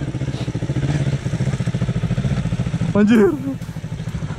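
A manual-clutch motorcycle idles with a steady, throbbing putter close to the microphone as a learner rider practices in first gear; a person briefly exclaims partway through while the engine keeps running.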